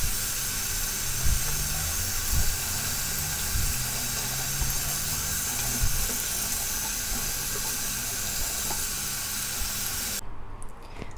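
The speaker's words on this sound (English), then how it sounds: "now I'm just gonna run water all over it and clean them out until I get the roots nice and clean" Water runs steadily from a tap over hoya plant roots to rinse the soil off, giving a constant hissing splash with a few low thumps and gurgles, until the flow cuts off near the end.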